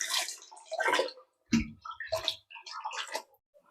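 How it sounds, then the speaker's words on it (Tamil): Goat intestines are washed by hand in water, with splashy sloshing and squishing bursts coming in several short runs and a clear pause in between, close and fairly loud, with no talk. "மேலே உள்ள அழுக்கு மாதிரி உள்ளதெல்லாம் அப்படி எடுத்துட்டு நல்லா வெள்ளை வெள்ளேர்னு கழுவி எடுத்து வச்சுக்கலாம்"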